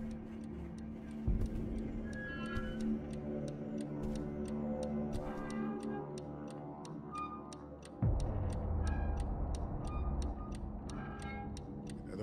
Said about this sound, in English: I hear a tick-tock, but I don't see a phone. Oh, I mean a clock.